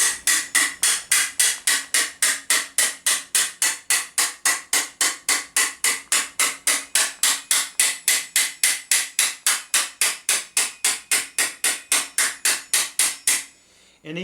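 Steel medieval armour being hammered on an anvil: a long, steady run of evenly spaced, ringing metallic blows, loud and close, with no voices, ending abruptly after about forty strikes.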